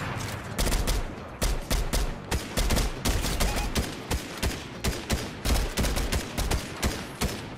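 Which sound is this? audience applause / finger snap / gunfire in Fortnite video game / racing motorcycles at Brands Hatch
gunfire in Fortnite video game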